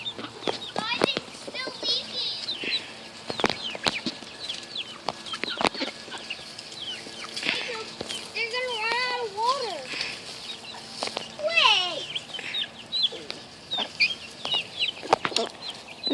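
Young chicks and quail in a farm pen with ducks, frequent high cheeping and clucking calls scattered throughout, with people talking nearby.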